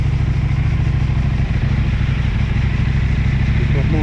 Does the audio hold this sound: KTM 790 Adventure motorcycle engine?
yes